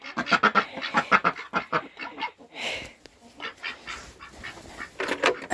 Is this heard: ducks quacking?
yes